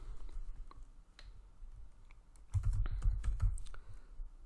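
A short name is typed on a computer keyboard, with a sparse tap or two at first and then a quick, close burst of clicking keystrokes in a quiet room.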